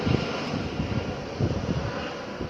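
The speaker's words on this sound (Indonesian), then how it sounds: "orang juga bisa lihat pesawat mau landing" An airplane passes overhead on its landing approach as a steady, loud engine roar and rumble with some wind noise. The setting is an outdoor food spot near an airport in the late afternoon.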